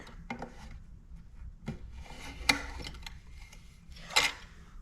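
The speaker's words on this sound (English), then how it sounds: "I'm going to feed that in to the tank and pull it back out the filler neck" A tool with a hook on one end is fed into the small-engine fuel tank of a Homelite leaf blower and drawn back out the filler neck, making close, intermittent scraping rubs with sharper scrapes near the middle and end.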